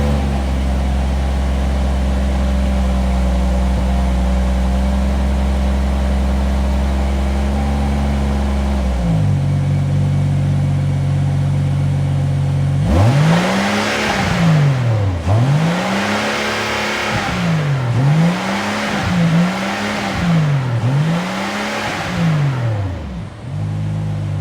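A Rolls-Royce Cullinan SUV's engine holds a steady low idle, then goes quiet before a run of loud, close revs, each rising and falling sharply, about five blips in quick succession with no talking.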